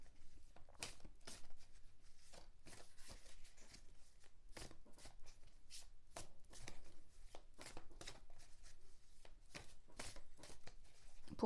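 A mirror-themed oracle card deck is shuffled by hand, giving quiet, close, repeated papery riffles and slides in a steady, uneven rhythm with no talking.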